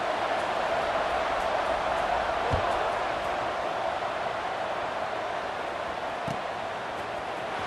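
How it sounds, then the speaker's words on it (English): Football stadium crowd at a Michigan vs USC game murmuring and buzzing after a score, a dense, distant, steady roar with a couple of faint thuds. "this crowd is buzzing after that last score"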